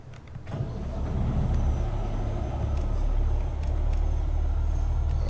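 A semi truck's diesel engine turns over and settles into a steady, loud idle, with no talking over it.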